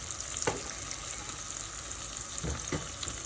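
Onions frying in a pan for an eggplant curry, a steady close sizzle with a few soft clunks or stirs, no talking.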